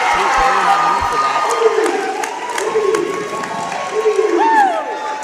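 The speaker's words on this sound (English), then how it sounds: "the crowd is cheering for that stop" Spectators cheer and shout in a gym after a goalkeeper's save at a girls' indoor sports tournament, a loud continuous roar of many voices with a commentator talking over it.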